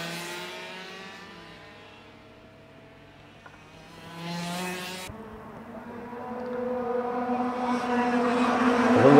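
Race cars in a French motor race pass by, engine noise rising from a distant drone to a loud, close roar with a sharp pitch shift as the leaders go past.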